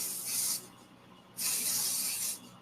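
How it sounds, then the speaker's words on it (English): Glow-in-the-dark spray paint can spraying a coat onto a wand handle; two close hissing bursts, a short one and then a longer one, separated by a brief pause. "Hit it with another coat of glow-in-the-dark spray paint."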